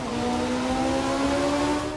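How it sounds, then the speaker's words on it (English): Rally car engine in the racing game Art of Rally holds a loud, steady droning note with a strong, even tone throughout, no voices. "how immersive the engine sounds were"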